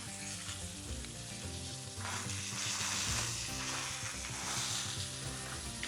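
Pork chops sizzle steadily on a hot grill with sauce brushed on, a continuous close crackle and hiss with small pops throughout and no talking.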